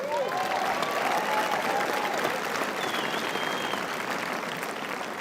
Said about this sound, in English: Another round of applause for the video.